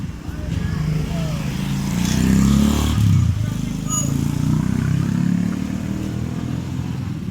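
A Yamaha Soul GT 125 motorcycle with a sputtering, backfiring exhaust runs steadily nearby, its engine rising briefly as it pulls off, while people talk over it.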